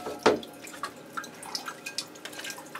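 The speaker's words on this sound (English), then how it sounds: "Water's going straight through and out the bottom." Water draining out the bottom of an orchid pot during watering, with one splashy drip followed by a run of light, irregular drips, close and fairly faint.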